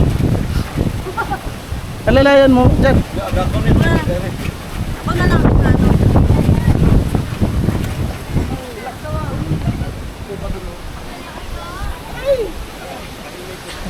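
Gusty wind blows across the microphone in an open outdoor spot while several people talk and call out over it.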